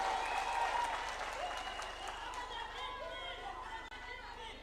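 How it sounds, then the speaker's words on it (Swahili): A large crowd at a presidential rally in Kakamega, Kenya, applauds in a dense, sustained clapping wash with cheering voices, fading slightly toward the end. "Mpigeni makofi."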